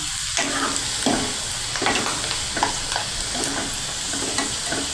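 Potato chips fry in oil over a medium flame with a loud, continuous bubbling sizzle close by, broken by light crackling pops and occasional stirring scrapes. Nobody talks.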